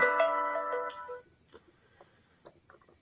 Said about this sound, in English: Sorry, time to silence the phone.